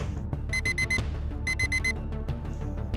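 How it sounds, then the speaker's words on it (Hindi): An alarm clock goes off in two clear bursts of four rapid, high electronic beeps, sitting over a low, steady background bed. "तभी इस घड़ी का अलार्म बजा था"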